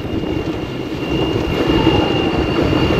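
A train rolls along a flooded railway line during a cyclone, a steady loud rumble of wheels and carriages that builds slightly as it passes close by, with no talking.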